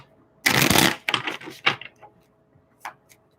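Tarot cards being shuffled by hand indoors in a small room: one loud, dense riffle burst followed by a few shorter shuffling rustles and taps, then a faint final flick.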